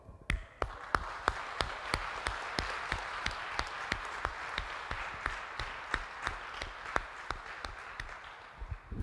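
A church congregation applauding during a sermon on tithing, though it comes across as a slow, regular run of sharp, evenly spaced claps, fairly faint, against a quiet background.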